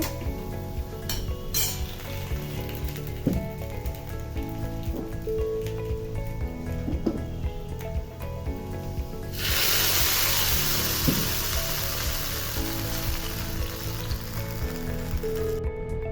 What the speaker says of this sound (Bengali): তো পেঁয়াজের বাগারটা দিয়ে আমি নেড়ে চেড়ে দিলাম